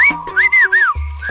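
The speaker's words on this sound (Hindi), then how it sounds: "आपने सीटी क्यों बजाई?" A man whistles a few sharp, loud, close notes that rise and fall in quick succession, followed by a low thump and a final short whistle.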